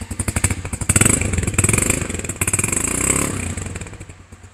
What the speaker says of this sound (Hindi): स्टार्ट करके हल्का सा रेव कीजिए।